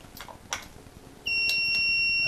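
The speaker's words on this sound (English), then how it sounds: "Again, green and a beep tone." Spark-On plug tester gives a short beep tone: a couple of faint clicks, then a loud, clean, sustained electronic beep starting partway through and holding to the end, with no voice over it.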